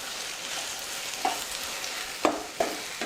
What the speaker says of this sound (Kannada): ಇದನ್ನು ಚಲೋ ಹೊತ್ನಾಗೆ ಮಿಕ್ಸ್ ಮಾಡ್ಕೋಬೇಕ್ರಿ.